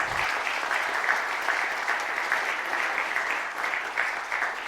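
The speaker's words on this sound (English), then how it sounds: "If you hear the applause, that's the applause for Tran." Steady audience applause fills a billiards hall at a three-cushion World Cup match in Sharm El Sheikh, a dense, even clapping that continues unbroken at moderate volume without voices.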